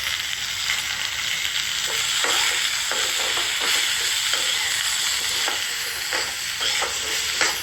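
Potatoes fry with a pinch of turmeric in a pan, giving a steady, close sizzle with soft stirring scrapes throughout and no talking.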